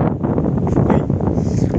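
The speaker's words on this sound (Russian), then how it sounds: "Разошелся какой-то ветер ураганной силы" Hurricane-force wind on a hike in the Guru area buffets the microphone in a steady, loud roar with gusty rumbling throughout.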